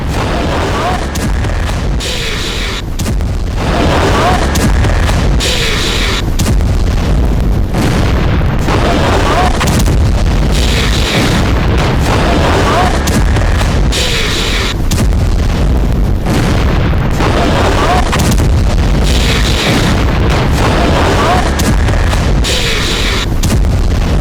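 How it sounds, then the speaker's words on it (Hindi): A bomb strike destroys a Hamas command center in Gaza, with loud heavy booms and rumbling blasts that repeat in surges across the whole stretch under a constant roar. "आईडीएफ ने हमास के ठिकानों को फिक्स किया, उसके बाद मिनटों में इसे बम से उड़ा दिया।"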